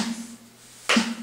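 Synthesized clap made from a splash cymbal sample: one sharp, bright hit that lands after a quiet low hum and cuts off quickly.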